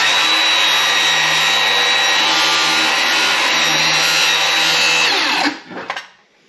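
Circular saw making a quick cut through plywood: a loud, steady high whine for about five seconds, then the blade winds down and stops with a brief clatter.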